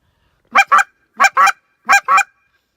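Three pairs of honking calls from a handheld goose call, each pair a quick double cluck imitating two geese, spaced evenly with short silences between, loud and close.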